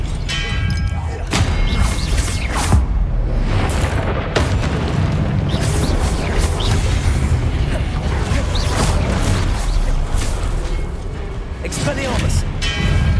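Spell effects from the video game Hogwarts Legacy, with the Expelliarmus disarming spell cast in combat: steady loud booming impacts and crashes, with several sharp bursts, over constant game noise and brief spoken incantations.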